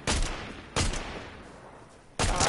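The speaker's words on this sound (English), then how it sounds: "we're gonna shoot them?" Bursts of automatic rifle and shotgun fire in a Fortnite match, three loud volleys separated by short gaps, with no talking over them.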